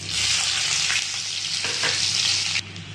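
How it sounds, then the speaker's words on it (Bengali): Chopped onion hitting hot oil already tempered with whole spices, cardamom and a pinch of sugar, giving a loud, steady close-up sizzle that drops off abruptly near the end. "এবার এই সামান্য কুচানো পেঁয়াজটাও দিয়ে দিলাম।"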